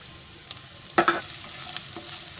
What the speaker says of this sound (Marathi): ह्याला पण चांगली फ्राय करायची